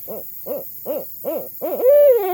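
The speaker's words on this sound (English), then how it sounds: "listen to the male and hear the difference in the call. Remember, the ascending hoots." Five evenly spaced hoots from a male barred owl repeat, building into a drawn-out, rising call at the end; a single bird close by, no talking.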